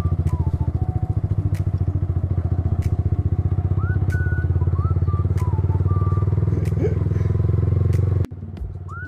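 A motorcycle idles and revs steadily under a learner rider practising clutch control and gear changes, its close, rapid engine putter continuous throughout. A shift in tone comes near the end, with voices faintly in the background.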